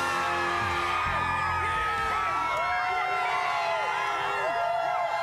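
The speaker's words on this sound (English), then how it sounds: "You are looking at a massive crowd that has gathered tonight in Rosthern at Centennial Park" A large crowd gathered in an evening town park with rides cheers and whoops continuously, a dense wash of overlapping voices and shouts at a loud, steady level.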